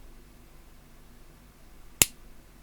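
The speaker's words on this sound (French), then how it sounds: "on va prendre l'appareil métallique et je vais la descendre vers le bas et ça va faire un bruit" A metal punch and die tool mechanism is lowered, giving one sharp, crisp click close to the microphone over a quiet background with no talking.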